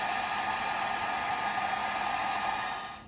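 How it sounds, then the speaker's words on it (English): Heat gun blowing hot air over bolts being dried after parkerizing, a steady loud broadband rush with a faint high whine, holding constant for about three seconds before cutting off. "Just giving these a spritz with the heat gun"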